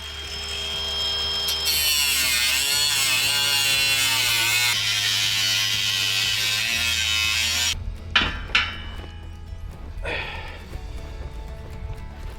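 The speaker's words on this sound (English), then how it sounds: "to get it out of the steel frame, you'll want to have an angle grinder" An angle grinder cuts the steel frame off an Aus Agro rotary hay rake. It gives a loud, steady, high-pitched whine for about eight seconds, then stops, leaving a few clanks and rustles.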